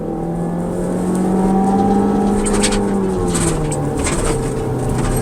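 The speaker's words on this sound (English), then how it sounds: "we just slowly open the throttle and we run it through the entire range of the vehicle to wide open" Engine of a 2021 Ford Transit Connect with a fuel mileage fault revving steadily as the throttle is slowly opened toward wide open, a loud continuous drone whose pitch rises and falls gently, with no talk.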